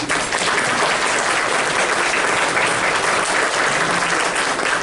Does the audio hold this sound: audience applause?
yes